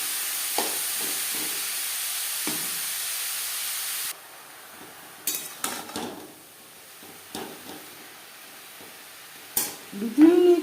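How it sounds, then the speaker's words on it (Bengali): Papaya is stir-fried with tempering spices and small bay leaves. A steady frying hiss runs for a few seconds and then drops away, followed by scattered scrapes and knocks of stirring in the pan. "ফোড়নের সাথে পেঁপে বেশ ভালো করে মিক্স করে দেবো।"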